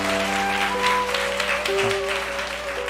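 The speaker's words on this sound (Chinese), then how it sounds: "我们再次拍手来祝福他们哦" Applause from the congregation at a church wedding ceremony, a steady wash of clapping throughout alongside sustained music tones.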